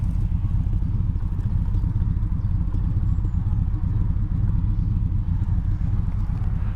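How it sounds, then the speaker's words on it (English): Triumph Stag V8 exhaust burbling steadily at idle, a continuous low rumbling engine note heard up close and loud with no talking over it. "the exhaust, I'll just let you hear this"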